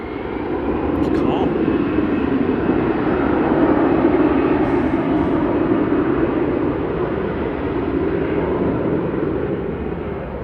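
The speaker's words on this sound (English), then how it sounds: "That's our plane, R&T, headed up to Prague, flight 2229, EasyJet A320." An EasyJet Airbus A320 jet takes off at Manchester Airport, its engine roar a loud, steady broadband rush holding across the whole stretch, with voices talking over it.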